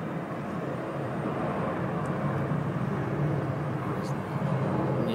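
A jet airliner takes off at Vaclav Havel Airport Prague, its engines giving a broad, steady roar at a middle distance that holds for the whole stretch, with a person talking over it.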